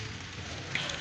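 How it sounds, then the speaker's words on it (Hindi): Rain falls steadily, a soft even hiss of drops on a surface with a couple of slightly louder patters near the end, fairly quiet and with no voices. "आप तो देख सकते हैं अभी भी बारिश हो रही है।"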